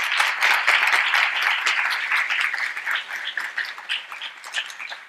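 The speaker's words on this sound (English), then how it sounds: "Please join me in a thundering round of applause for Dr." Hall audience at a youth lecture breaks into full applause welcoming the speaker, dense at first, then thinning into scattered individual claps as it fades out.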